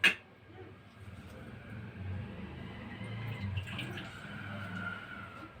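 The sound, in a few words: washing a conch shell and filling it with water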